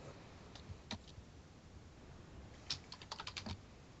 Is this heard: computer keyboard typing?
yes